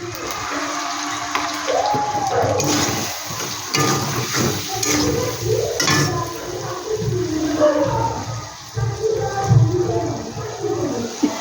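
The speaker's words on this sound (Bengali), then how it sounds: "জল থালাটা ধুয়ে একটু জল দিয়ে দিলাম" Water poured into a hot pan of frying spices while cooking koikopi, a close, loud hissing sizzle and bubbling that rushes in, then settles into uneven crackling and spitting for several seconds with no talking.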